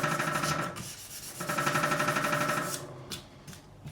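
Sandpaper rubs back and forth in a guitar fret slot on a custom hand-made Strat being re-fretted, a close, quiet rasping in rapid strokes, broken by short pauses.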